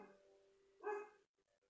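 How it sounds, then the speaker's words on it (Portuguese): A small dog barks indoors, one drawn-out yelping bark followed by a few quick softer yips, moderately near in an otherwise quiet room. "Meu cachorrinho está latindo bem."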